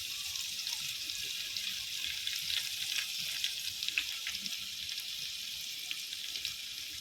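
Garlic sizzles in hot oil while tempering a vajadi rassa, a steady close crackling hiss with small pops scattered throughout and no talking.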